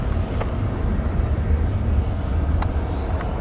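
A Southwest airliner departs Nashville International Airport, its engines a continuous deep rumbling roar, steady and moderately loud, heard from a distance with no speech.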